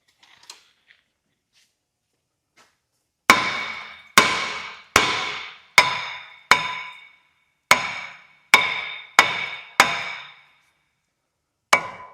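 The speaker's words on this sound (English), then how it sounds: "I'm going to hammer this rotor out a little bit" Hammer blows striking a brake rotor on the front hub of a Hyundai Sonata, ten sharp metallic ringing hits in a steady rhythm, close and loud after a quiet start, with no talking.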